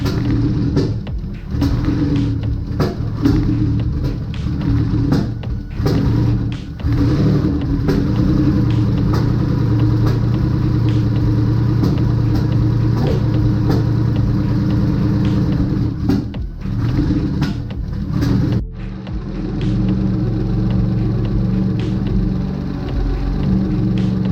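Mazda MX-3 engine idling steadily after a cylinder head replacement, a continuous close, loud low rumble with slight rises and dips in revs, heard alone without talk.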